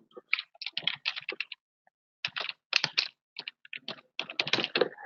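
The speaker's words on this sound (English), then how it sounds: "I'll just type the uppercase value" Typing on a computer keyboard: close, rapid bursts of key clicks with short pauses between words, clear and alone without any talking.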